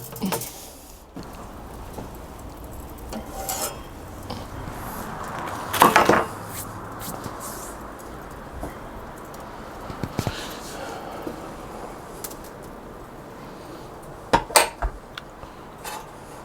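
Metal heat deflector and grill grate being set into a Pit Boss Kamado K24 ceramic barbecue, with clanks and scrapes over a constant background hiss and a sharp clatter about midway, then a few more near the end.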